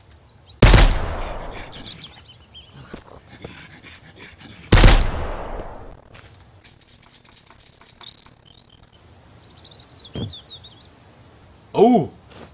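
Two loud, separate gunshots in the survival game Mist Survival, each with a long echoing tail, set against a quiet outdoor backdrop of chirping birds and faint distant sounds.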